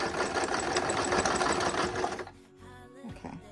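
A sewing machine stitches pajama shorts, running as a steady close rapid whir for about two seconds, then stopping, followed by a few faint handling clicks.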